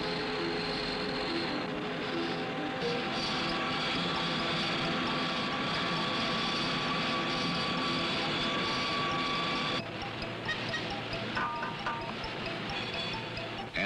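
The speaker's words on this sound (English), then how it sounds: "Under a steady flow of oil, locking lugs are milled in center fire receivers." Metal-cutting machinery mills locking lugs into Remington center-fire rifle receivers under a steady flow of oil, a loud, continuous industrial whine and hum with steady tonal lines, shifting in character partway through.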